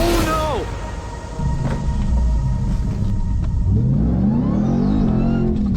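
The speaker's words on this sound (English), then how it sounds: "Hit the clip of Schwab flipping the truck." A truck engine rumbles loudly and revs with a rising pitch as the truck flips over, a continuous close roar with no break.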